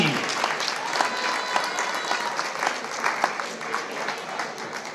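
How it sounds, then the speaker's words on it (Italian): An outdoor audience at an 80th birthday party in a park claps together, a lively crowd applause with individual sharp claps popping out, steady and fairly close, with voices faintly underneath. "un applauso anche per la Reggiana"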